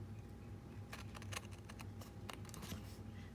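A paper coin envelope being trimmed with a cutter, heard as faint, quick scraping clicks in a few short bursts over a low steady room hum, with no talking.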